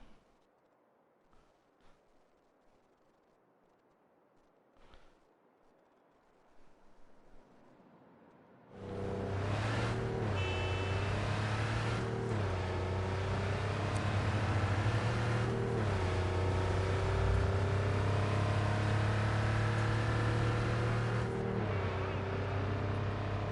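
A car drives in Cyberpunk 2077, its engine roaring in abruptly after several seconds of near silence with a few faint knocks, then holding a loud, steady drone with shifting pitch to the end.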